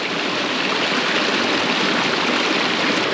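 Fast-moving small river water rushing near rapids, a steady close broadband roar with no pauses and no voices.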